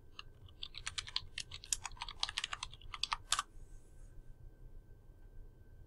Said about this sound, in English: Then type your search terms in the box.